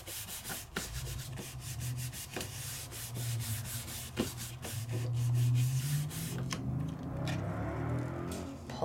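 Foil being rubbed onto a stamped image with Aladine Doodler stamps, a soft, steady scratchy rubbing in repeated strokes punctuated by light taps, faint and close, with no talking.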